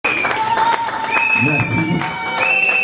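Sustained applause and cheering from an audience at a community association ceremony. It holds steady at a loud level under an amplified announcer's voice, with a short word spoken over it.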